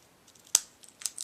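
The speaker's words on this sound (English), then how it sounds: "just hold it firmly and just trim off that excess" Scissors snip through excess glimmer paper in a papercraft card-making session, giving one crisp, close cut followed by a couple of lighter snips, heard alone in a quiet room.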